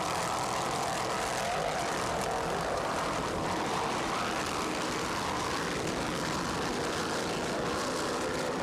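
Racing powerboats, a 47-foot and a 38-foot Fountain, at the 1994 South Padre Island Grand Prix APBA national race give off a loud, steady engine roar that fills the whole stretch with no talking.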